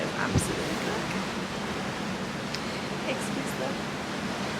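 Wind gusting across a cruise ship balcony at sea on an Alaska cruise: a steady, loud rushing roar buffets the microphone throughout.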